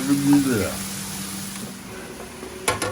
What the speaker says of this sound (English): we will continue to fry those fairly lightly until the mushrooms have lost their rigidity and have become soft